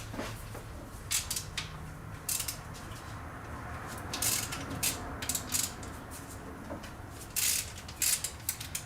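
Ratchet loosening the rocker arms on an engine during a cylinder head teardown, with short bursts of fast metallic clicking separated by pauses over a low background hum.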